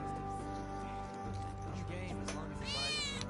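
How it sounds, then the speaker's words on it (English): A cat meows in Final Fantasy VII Remake, a few clear, rising-and-falling cries standing out near the listener over steady game music and background hum. "There's a cat."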